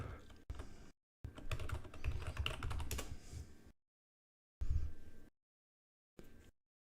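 Someone types in bursts on a computer keyboard, with rapid close clicks and taps separated by gaps of silence. No voice is heard.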